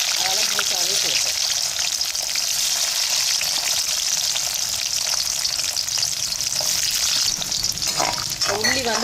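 Chana dal and whole garlic cloves frying in hot oil in a pan, a steady close sizzle running throughout with occasional stirring scrapes.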